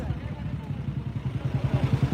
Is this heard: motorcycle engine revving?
yes